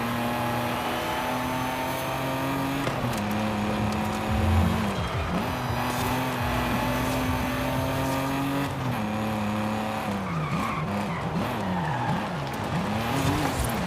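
A tuned car in Forza Horizon 5 races at high speed, its engine droning loud and steady with gear shifts, then revving and wavering through hard cornering and braking near the end.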